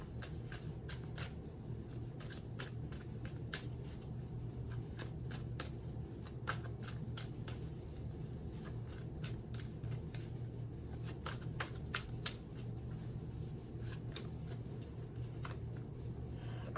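Tarot cards being shuffled steadily at close range, a continuous riffling rustle with repeated sharp card snaps over a low constant background hum, no talk.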